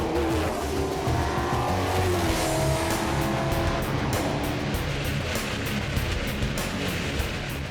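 Race car on a wet track during a practice session after a warm-up lap, engine roaring continuously with rising and falling revs and spray hiss, loud and close throughout.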